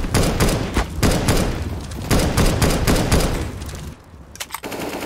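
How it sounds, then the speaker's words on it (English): A grenade detonation in the video game CS:GO, heard amid loud, dense gunfire bursts that keep up with little pause and dip briefly near the end. "Oh! Grenade."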